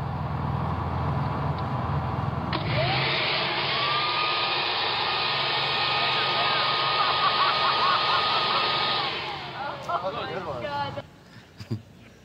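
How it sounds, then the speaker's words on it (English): A giant leaf blower roars loud and steady for several seconds, then cuts off and leaves scattered clattering noises. Voices can be heard faintly beneath the blower. "I brought in the giant leaf blower."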